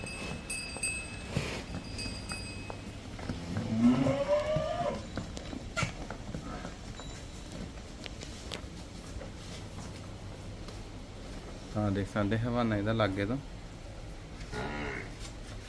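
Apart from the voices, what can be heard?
water buffalo mooing on a farm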